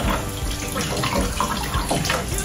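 A tap runs steadily into a basin while the water warms up before mopping, a close, constant splashing gush that holds level throughout with no speech.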